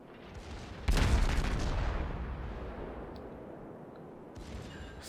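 A heavy naval gun salvo in the warship game World of Warships, fired in a battle involving a Fletcher destroyer. A single loud boom hits suddenly and then rumbles away slowly over several seconds.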